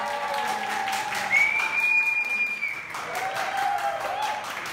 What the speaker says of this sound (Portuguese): A salva de palmas de vocês para o casal número 1!